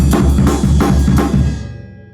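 A loud, close D-beat drum pattern pounds out a quick steady beat with cymbal crashes, then stops and lets the cymbals ring down, followed by one last hit.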